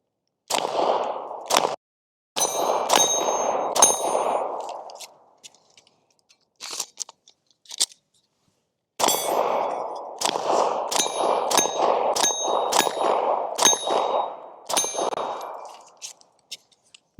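Pistol shots from a handgun fitted with an EP-10 enclosed red dot sight strike steel targets, each crack followed by a bright ringing ding, fired in quick strings with short pauses between volleys, loud and close.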